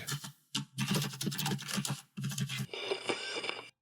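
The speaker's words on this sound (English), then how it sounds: "Oh, I have to finish typing with my keyboard loud. Clicky clack." Rapid clicky clacking from a loud mechanical computer keyboard, keys struck in fast bursts with short pauses between runs, close and alone with no voices.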